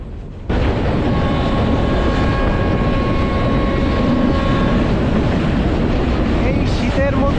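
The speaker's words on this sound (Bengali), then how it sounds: "হুইসেল বাজিয়ে আমাদের ট্রেন এগিয়ে চলেছে পাটগ্রামের দিকে" A Burimari local commuter train runs toward Patgram on a foggy winter day, a loud steady roar of wheels and wind after a quieter start, with a long sustained whistle tone for several seconds.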